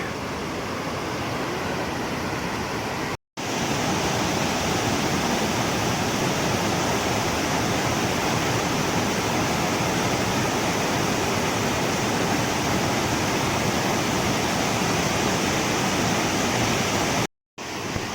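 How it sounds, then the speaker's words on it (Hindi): Glacier meltwater waterfall in the Himalayas roars as a steady, loud broadband rush close by. It runs without a break for the whole span, apart from two brief dropouts. "अब ये झरना पार करने के लिए हमें जूते खोलने पड़ेंगे।"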